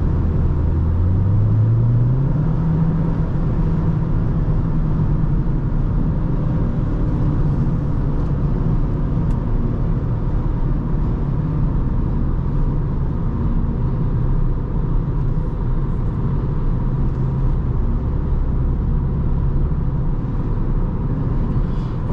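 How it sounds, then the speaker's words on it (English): Inside a 2023 VW Jetta GLI cruising at Autobahn speed, a steady broadband wind rush blends with low road and engine rumble, with a rising engine tone early on, constant and loud throughout. "Now the wind noise is definitely more noticeable at this speed."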